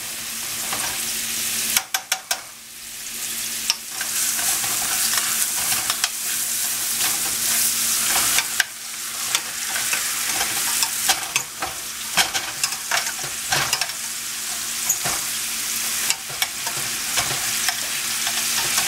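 Beef tenderloin sears in butter in a skillet, a constant loud sizzle close by with intermittent clanks and scrapes as the butter is kept moving, with no talking.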